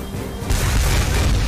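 Missile explosion in the video game Front Mission 4 on a Paris stage, a sudden heavy boom that turns into a sustained loud roar over continuous game sound.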